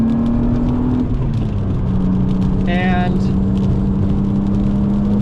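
A 260,000-mile BMW M3 on Continental DWS 06 Plus tires drives hard on a race track, its engine droning steadily loud and shifting pitch, with a voice talking over the cabin roar.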